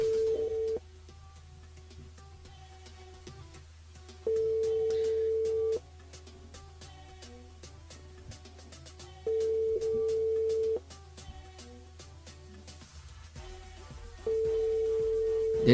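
A radio call-in line rings repeatedly, with four evenly spaced electronic telephone ring bursts separated by silent gaps over a faint background hum, clear and close.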